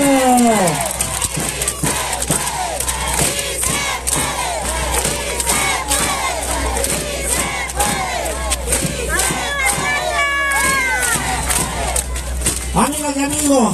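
A packed crowd at a 'Sabinas por el Cambio' political rally roars for Lenín Pérez, with overlapping cheers, shouts and whistles kept up loudly for about fourteen seconds, voices rising and falling throughout.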